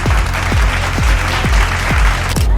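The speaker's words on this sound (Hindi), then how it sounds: "इनके लिए एक बार जोरदार तालियां।" A live stage audience applauds as a volunteer joins a snake demonstration, giving dense, continuous clapping throughout with a deep rhythmic thump pulsing underneath about twice a second.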